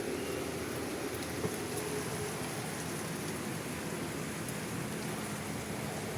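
Steady rain falling on a rooftop area during a storm, a soft continuous patter with scattered droplet ticks, even and moderately close with no talk.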